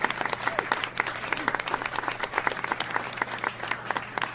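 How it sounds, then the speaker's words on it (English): A lecture audience of teenagers gives a big round of applause to welcome a professor, with many distinct hand claps forming a lively, steady ovation at close range. "I'd like you to give a big round of applause"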